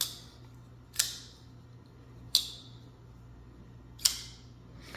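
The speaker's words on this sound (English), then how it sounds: "It's kind of a zipper sound, and that's the sound of the detent ball rubbing on the rough surface of the tang." A pocket knife with a 14C28N two-tone blade snaps open and closed three times against its detent ball, each a sharp, close click with a short zipping rasp, spaced over a quiet background.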